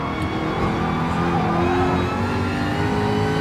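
Race cars in the game GT Sport accelerating down the straight at Goodwood, a loud, continuous engine roar that holds steady throughout.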